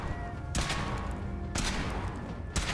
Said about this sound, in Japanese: 発砲中だ。